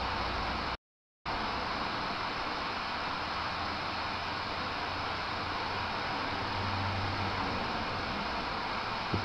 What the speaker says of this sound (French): Mais ça c'est une radio. Et vous pouvez essayer de parler via ce bruit blanc que je vous mets.